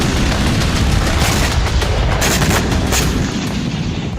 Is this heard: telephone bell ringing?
no